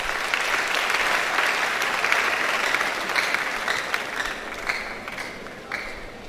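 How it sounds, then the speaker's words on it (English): Students at a university orientation programme clap for the Vice Chancellor, a loud, steady round of applause that thins slightly toward the end, with no speech over it. "Clap for the Vice Chancellor for me."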